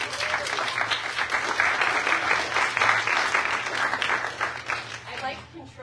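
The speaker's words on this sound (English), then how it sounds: "I like controlling applause" Audience applause fills a live theatre before a debut full-length play, steady and dense clapping for several seconds before thinning out near the end.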